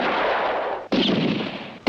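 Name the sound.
gunfire after order to shoot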